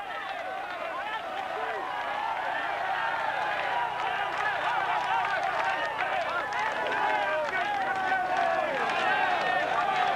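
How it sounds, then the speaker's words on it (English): A large roadside crowd at the 1997 Ghent-Wevelgem bike race gives a continuous roaring din of shouting and cheering, steady and loud throughout, with a commentator talking over it. "deafening din of the crowd shouting along in this lovely summer sunshine"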